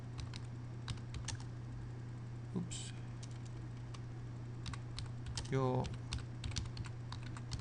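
Computer keyboard typing while entering a question into a website form field, light irregular key clicks near the mic over a steady background hum, with a brief spoken word.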